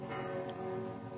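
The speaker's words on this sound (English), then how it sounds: "Do you mind telling us what those bells are?" Church bells ringing for practice in a quiet town, heard in a radio drama: a steady, resonant peal of several tolling bells, moderately distant and alone without voices.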